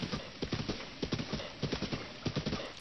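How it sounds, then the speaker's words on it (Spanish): Horse hooves clip-clop in a fast, steady rhythm in The Legend of Zelda: Breath of the Wild, loud and close as the horse gallops with no talk over it. "Y vaya que hay caballos en esta zona."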